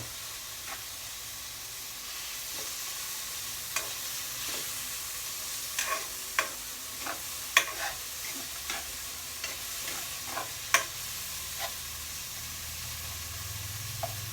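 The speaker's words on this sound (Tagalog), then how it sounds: "Susunod na natin ang kamatis. Wala namang nabago. Normal na pagigisa lang." Tomatoes sautéing in a pan for Filipino ginisang upo, a steady soft sizzle with scattered stirring clicks and scrapes, no talk.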